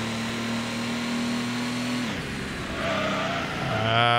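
A race car engine in the PS1 game Gran Turismo drones loudly and steadily, then drops in pitch and climbs again as it revs up through gears, heard alone.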